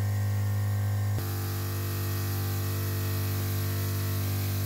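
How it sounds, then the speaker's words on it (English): USRT PeaceKeeper heat defense system spraying a fine mist onto an intercooler, heard as a steady hiss over a loud constant electrical hum, with a brief click and shift partway through, no voices. "So I'm gonna try to shoot a demo right now of the spray pattern."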